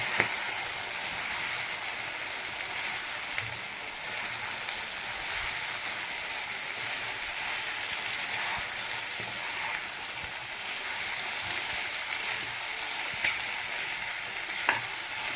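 Chicken liver fry with coconut powder is stirred in a hot pan, giving a continuous dense sizzle with occasional soft scrapes of a spoon, close and steady throughout.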